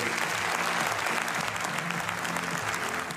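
Audience applause at an award ceremony for a science and technology prize, steady dense clapping from a large crowd throughout, fairly loud and continuous.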